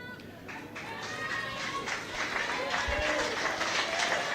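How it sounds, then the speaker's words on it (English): Irish fans applaud at a women's under-20 rugby match in Ústí nad Labem, a steady wash of crowd clapping that swells toward the end beneath a commentator's voice. "Ireland's Jane Neal gets the applause of the Irish fans in Ústí Mnac."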